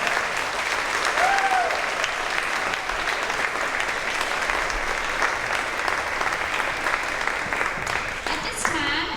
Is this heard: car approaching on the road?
no